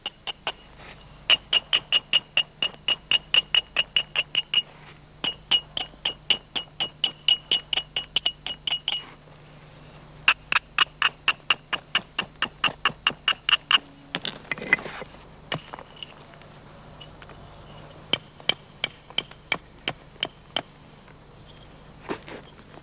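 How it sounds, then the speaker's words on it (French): Flint being retouched with a small reindeer antler percussor, sharp clicking taps in rapid rhythmic runs separated by short pauses, close and crisp, with one brief scraping rustle midway. "sur les bords finis avec soin à l'aide d'un petit percuteur en bois de renne, plusieurs outils peuvent être aménagés par de fines retouches"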